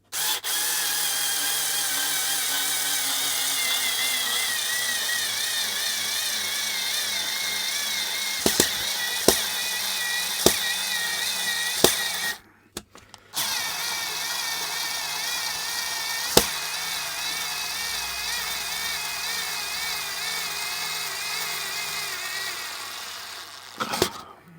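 Ryobi Ergo cordless screwdriver driving a long 80mm screw, a steady motor whir that runs continuously and loudly with a few sharp ticks and one brief stop partway through.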